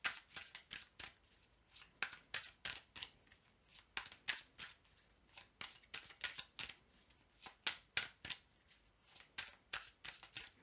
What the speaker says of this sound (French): Donc je vais tirer toutes les cartes.